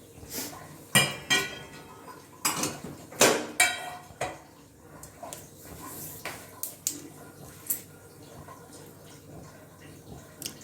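Mustard seeds spluttering in hot oil while seasoning vermicelli upma: scattered sharp pops and crackles, with a few louder bursts early, then quieter sputtering.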